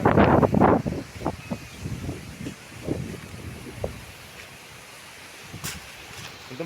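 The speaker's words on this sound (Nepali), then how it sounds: "एकदम डेन्जर भयानक हावा चलिरहेको छ" Strong wind gusts across the microphone outdoors in Butwal, Nepal. The buffeting rumble is loudest in the first second, then settles into a softer, uneven roar with scattered gusts.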